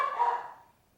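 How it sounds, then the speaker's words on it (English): A dog barks indoors during a makeup session: one short, fairly loud bark that fades within a second, with no talking. "I'm sorry about the barking dog."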